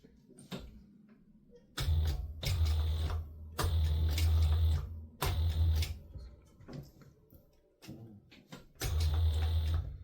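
A sewing machine stitches a leather-style angular wallet in several bursts of rapid, loud mechanical whirring, each a second or two long, separated by short pauses and quieter handling noises, close to the listener.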